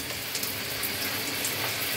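Hot water running from a mini tankless water heater, a steady close hiss of flowing water from a tap, even and continuous with no voices.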